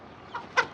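A rooster, loose and dodging capture, gives three short clucks, each louder than the last, close by over faint background noise.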